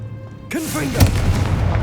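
A Confringo fire spell in Hogwarts Legacy bursts with a sudden booming blast after a quiet moment, followed by a rumbling roar, while a voice calls out over it.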